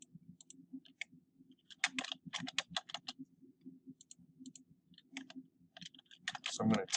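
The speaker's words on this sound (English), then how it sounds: "So I'm going to type that in." Keys clatter on a computer keyboard while entering data in mapping software, several bursts of quick clicks with a low hum underneath, close and fairly quiet.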